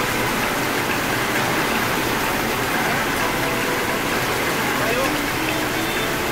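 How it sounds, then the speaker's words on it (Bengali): A heavy downpour of rain on a roadside makes a dense, steady broadband roar, loud and close, while a person talks over it. "মুষলধারায় বৃষ্টি, রেনকোট পরেও আমরা পারলাম না, তাই বসে পড়েছি।"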